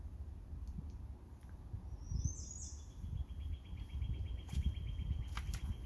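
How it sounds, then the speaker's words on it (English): Birds chirp and tweet outdoors in a quiet rural setting, a few short high calls and a trilling run standing out over a low steady rumble of background noise. "Could you hear these birds out here?"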